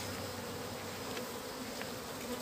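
Bees buzz steadily at a hive, a swarm captured from a tyre and kept for honey production, with a dense continuous drone close by and no voices over it.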